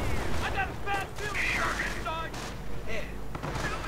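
Tank and anti-tank gunfire in a World War II strategy game, with armor-piercing rounds from Sherman, Pershing and Panther tanks; sharp shots and bursts repeat over a rumbling battle bed while a commentator talks throughout.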